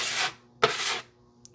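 A drywall knife scrapes and wipes joint compound over nail pops on a wall, two smooth rubbing strokes up close in a quiet room, with a faint tap at the end.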